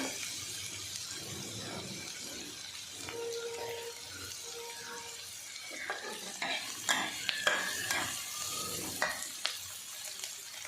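Onions frying in a little oil for an arbi sabzi, a quiet steady sizzle with scraping stirs and sharper spoon clicks against the pan growing busier toward the end.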